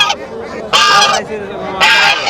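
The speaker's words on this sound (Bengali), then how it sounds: "আমি তিনটা রাজহাঁস দেখতে পাচ্ছি" Domestic geese honk loudly nearby at a rural market in Bangladesh, in two harsh, nasal bursts separated by a brief quieter gap.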